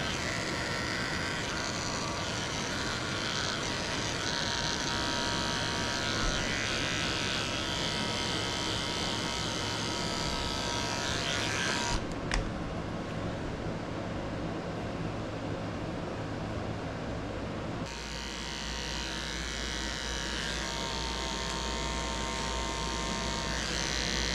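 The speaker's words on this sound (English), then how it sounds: "He's not going to like me shaving the pads of his feet out." Electric clippers shaving the paw pads of a poodle, a continuous close buzzing drone that shifts pitch as the blade presses on the foot, steady throughout.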